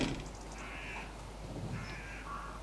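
Magpies calling around a silage cover on a farm during air rifle hunting, harsh chattering caws rising in two or three bursts over steady low background rumble, moderately distant and fairly faint.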